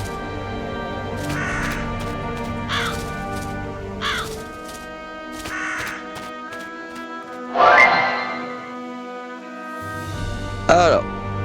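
Crows caw repeatedly in a video game, harsh calls coming in short bursts of two or three with pauses between, fairly close and clear over a steady low background hum.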